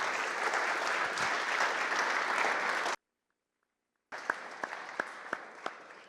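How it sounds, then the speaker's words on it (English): A crowd at a Gnomon event applauds for about three seconds, a full, steady round of clapping that cuts to silence and then returns with a few sharp, close claps standing out. "let's have another big round of applause"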